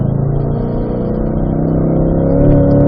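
A C8 Corvette accelerates hard on a race track after an upshift, its engine a loud, close, steadily rising drone that climbs in pitch for the full stretch, with no talking.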